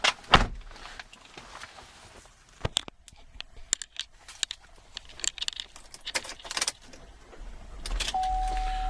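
Car door clunks and rustling as someone gets into a 2010 Buick Enclave CXL AWD, a few sharp clicks and knocks, then the engine starts and settles into a steady low idle.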